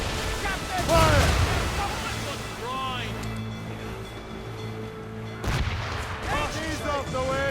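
Ship cannons fire in Assassin's Creed Rogue, two heavy booming salvos several seconds apart over rolling ocean surf and creaking ship ambience, with shouted voices in between.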